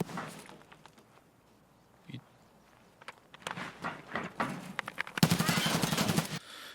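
Gunfire in the game Escape from Tarkov, with sharp shots scattered early and then a dense, loud burst of sustained automatic fire near the end.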